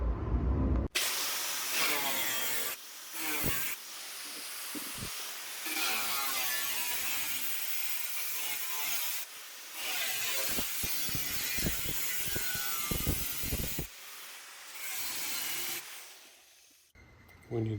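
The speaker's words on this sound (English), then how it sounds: "There's something really satisfying in cutting rust away and seeing only solid metal" A cutting tool grinds and hisses through rusty metal on the bonnet frame of a 1966 Triumph GT6, in long sustained loud bursts broken by short pauses.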